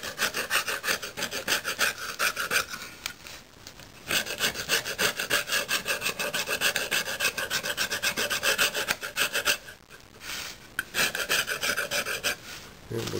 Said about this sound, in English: We're just using a chisel here to get all this corrosion off.